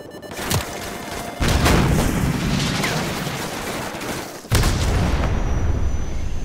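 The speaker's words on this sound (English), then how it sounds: "So, grab another Stinger and fire again." Stinger missile launcher in Call of Duty firing, two loud booming launches with a sharp onset, each followed by a long roaring rush that trails off.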